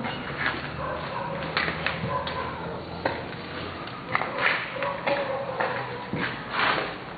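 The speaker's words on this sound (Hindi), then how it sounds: "चलो जानवर भौंक रहे हैं" Dogs barking and yipping outdoors at night, several sharp calls in irregular bursts at moderate distance over a steady background hiss.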